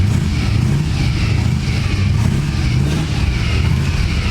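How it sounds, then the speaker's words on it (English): A 1959 Studebaker Silver Hawk's engine runs steadily and loudly nearby, a continuous low rumble with slight swells that may be light revving. "The engine in the car runs really well."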